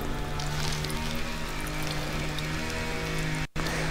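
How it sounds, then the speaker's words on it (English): Fuel from a Honda mower carburetor trickles into a cup in a steady close pour that runs continuously and cuts out briefly near the end. "Drain the fuel in there."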